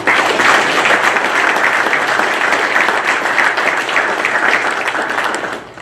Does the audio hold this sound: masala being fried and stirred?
no